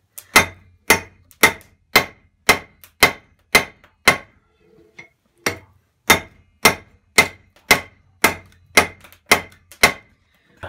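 Hammer forging a scrap of rebar into a knife on an anvil, sharp ringing metal strikes in a steady rhythm, about twenty close blows with one brief pause partway through.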